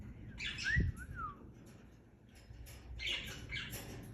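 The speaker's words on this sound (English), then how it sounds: "My bird." A bird gives a few squawking chirps and short whistled calls, moderately near, over a faint background hum.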